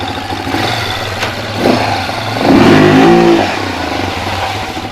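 A Toyota Land Cruiser FJ40, left sitting in a field for 20 years, idles roughly up close and then revs up in a short surge before settling back to a steady idle.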